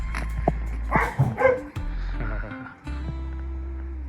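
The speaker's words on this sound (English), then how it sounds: "And there's a dog out there somewhere." A dog barks outdoors at night near a lake and neighbouring houses, several short barks and yips sounding from a moderate distance over a steady low hum, with a person speaking briefly near the microphone.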